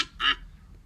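A single short, low-pitched goose honk recorded as a sample for a virtual instrument, a brief nasal call standing alone and close.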